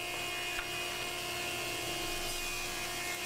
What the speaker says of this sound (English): So I did a couple passes through here through the planer, and got them down to the 3/4 inch